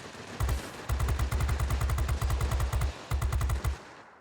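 A Messerschmitt Me 210 in World of Warplanes fires its guns at a bomber: loud, rapid machine-gun bursts in several sustained volleys with brief pauses between them.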